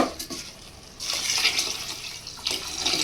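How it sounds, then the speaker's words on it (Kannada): Water pours from a vessel onto fried vegetables and rice in a pan while upma is made, a close splashing rush that starts after a short pause and runs steadily. "ನೀರು ಹಾಕ್ಕೊತಾ ಇದ್ದೀನಿ"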